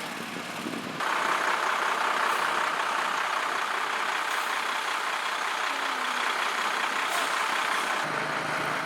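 A truck towing a boat trailer idles with a steady, loud engine rumble and broad mechanical hiss that continues unbroken throughout.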